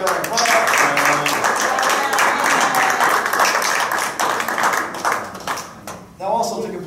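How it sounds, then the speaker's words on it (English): An audience claps for a woman honored at a Belmar borough council meeting, a dense, steady burst of applause lasting several seconds, loud and close, tapering near the end with some voices mixed in. "Let's give her a clap"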